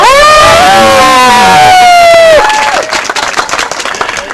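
A protest crowd at a Bill 29 rally breaks into clapping and cheering after a loud voice shouts through a PA, the applause and whoops rising in the latter half, outdoors and close by.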